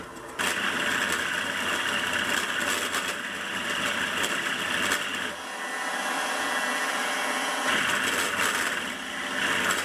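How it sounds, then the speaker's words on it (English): A milling machine with a router bit cuts a concave opening into a hole in a toolmaker's mill vise, giving a steady, loud whirring hum with a brief dip in the middle before resuming. "The hole needs a concave opening for the clamping screw, and I'll cut that in using a router bit."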